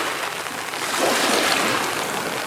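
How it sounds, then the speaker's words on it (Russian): Rain patters on an umbrella by the sea, a steady dense hiss of drops, close and fairly loud, with no voices. "Капающий на зонтик дождик."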